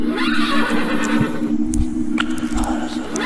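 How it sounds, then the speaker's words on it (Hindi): A zombie horse in an animated story gives a loud, close neigh that whinnies and trails off, with a few soft hoof clops following. "घोड़े को पहले तो कुछ महसूस नहीं होता, लेकिन कुछ दिन बाद वह घोड़ा एक खतरनाक ज़ॉम्बी घोड़ा बन जाता है।"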